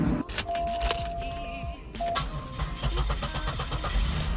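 A GM car engine cranks with a whining starter after a jump start, then catches and settles into a steady rumbling idle, close by.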